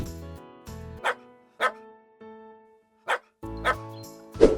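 A dog gives several short, sharp barks spaced about a second apart, interleaved with bright toy-like tones and music, fairly close and clear with no speech.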